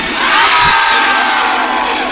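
Side-by-side cheering sections at a PAC-12 collegiate gymnastics championship roar with loud, sustained crowd cheers, whoops and high-pitched shouting filling the arena throughout.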